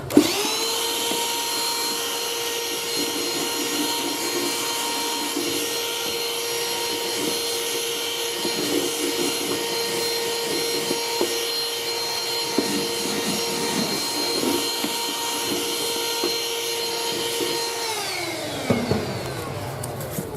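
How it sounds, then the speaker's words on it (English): Shop vacuum cleaner sucking up laminate flooring dust from a subfloor during installation, a steady loud motor whine running continuously for about eighteen seconds, then winding down as it shuts off, with faint scraping of the nozzle throughout. "pick up the pieces, and vacuum up all the dust"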